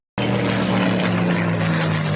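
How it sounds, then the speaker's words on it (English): A Mustang and a Spitfire, both powered by Rolls-Royce Merlin engines, roar past low on a ground attack pass at an airshow, a loud, steady, continuous piston-engine drone filling the whole stretch. "you'll hear that wonderful pair of the Rolls-Royce Merlin engines in the Mustang leading the Spitfire on a ground attack pass by the aerodrome"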